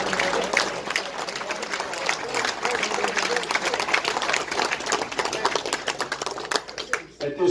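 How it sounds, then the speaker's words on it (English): Crowd applause at a Shore Conference Wrestling gathering, a dense steady round of clapping from many hands that lasts several seconds and fades near the end, with voices mixed in. "I'd like to have a round of applause for the Shore Conference Wrestling and its history."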